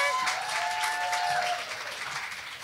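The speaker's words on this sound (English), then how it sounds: "Yeah, another round of applause." At a student arts showcase, a crowd gives a round of applause: dense, steady clapping throughout, with a faint tonal sound ringing briefly in the middle.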